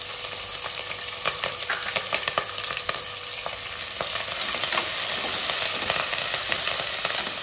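Dried red chillies fry in hot oil for kichidi, giving a steady, close sizzle with scattered crackles and pops that grows slightly louder partway through, with no talking.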